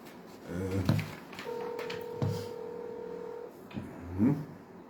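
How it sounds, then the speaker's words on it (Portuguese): Telephone dialing tones, a long steady two-tone beep sounding faintly under low rustling and a few brief murmurs. "Eu estou a recorrer ao telefone"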